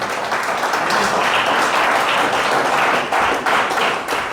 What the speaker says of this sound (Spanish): Bendígalo entonces con un aplauso.